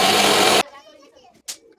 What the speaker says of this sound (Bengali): এবার সেই চিংড়ি মাছের খোলাগুলো এবার পেস্ট করে নিই